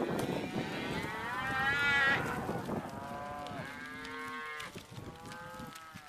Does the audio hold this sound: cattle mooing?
yes